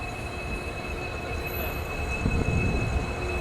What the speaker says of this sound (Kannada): ತಿರುಪತಿ ಹುಬ್ಬಳ್ಳಿ ಎಕ್ಸ್ಪ್ರೆಸ್.